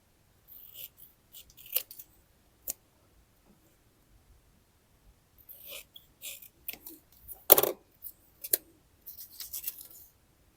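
Scissors snipping paper to cut out a small square for a mini zine craft: quiet, close, irregular crisp snips and rustles separated by short silences, with no voices.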